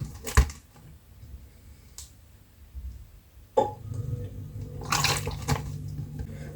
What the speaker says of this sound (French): Et comme ça, je mette l'eau dans une bouteille.